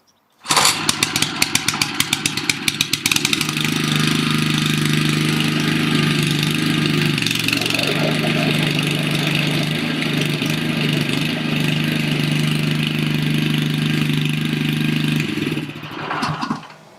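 A Westermann Weed Ripper, a moss and weed removal machine with a rotating brush head, starts up with a few rough pulses, then runs at a loud, steady engine drone close by before easing off near the end.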